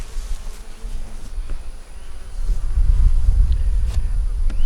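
Honey bees drone steadily around an opened ten-frame deep hive in South Carolina just after rain. A close, continuous buzz swells louder partway through, with individual bees passing by the mic and faint wind rumble underneath.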